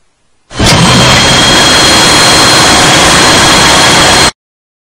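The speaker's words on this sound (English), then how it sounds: "Start the engine." Diesel auxiliary engine starting and settling into a loud, steady broadband roar that holds for several seconds before cutting off abruptly, with a faint high whine riding above it.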